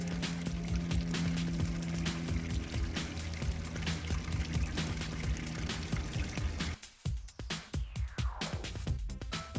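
Water pours and splashes steadily into an aquaponics system, then briefly cuts off and resumes in choppy gushes and trickles.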